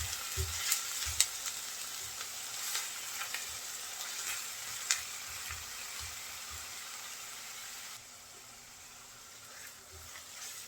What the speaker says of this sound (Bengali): বাটা পেঁয়াজ রসুন একটু ভেজে নেব যাতে কাঁচা গন্ধ চলে যায়